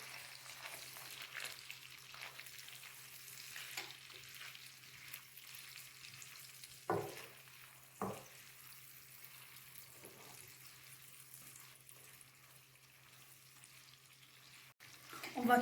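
Chopped onions frying in a pan for a creamy pasta dish, a soft steady sizzle held at low level throughout, with a few brief clinks of a utensil near the middle and a sharper knock at the end.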